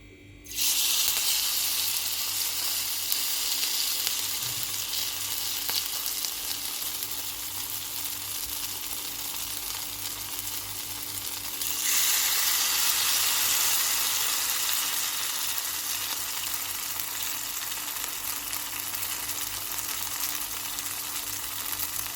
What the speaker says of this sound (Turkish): yağı kızdıralım ve köftelerimizi kızartmaya başlayalım